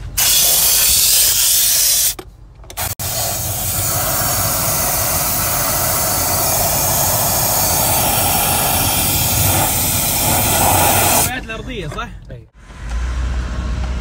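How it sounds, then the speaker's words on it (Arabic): Compressed air blasting through the AC vents and evaporator of a Toyota car to push out dust, a loud steady hiss lasting over ten seconds with brief pauses near the start and end. "الان لو عندك هواء تنفخ من هنا من الفتحات حقت المكيف حينزل لك التراب على التحت"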